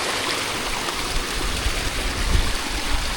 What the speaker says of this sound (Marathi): ते झरवणीचं पाणी इकडे येतं आहे.